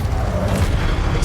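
A Confringo spell explosion in Hogwarts Legacy, a loud low booming blast with rumbling energy filling the whole short moment, no pause or quiet between.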